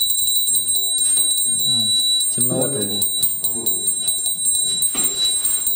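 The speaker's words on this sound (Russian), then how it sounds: "я беру колокольчик, звоню" A small hand bell rung indoors in the early morning, bright metallic rings repeating in quick bursts with a sustained high ringing tone, while someone talks over it.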